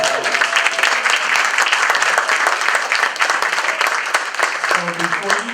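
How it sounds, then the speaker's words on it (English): Attendees at a board of education meeting give a round of applause, loud, sustained clapping from many people in a room, lasting several seconds with a voice briefly audible near the end. "let's give them another round of applause"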